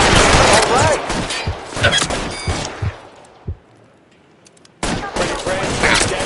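Shootout in L.A. Noire: rapid volleys of gunshots crack close and loud in dense bursts, drop to a lull with a single thud, then the heavy firing resumes.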